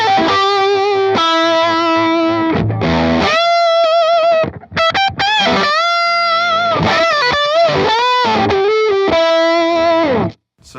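Electric guitar through a JHS Superbolt v2 overdrive pedal plays sustained, saturated lead notes and bends, loud and close, with brief pauses between phrases.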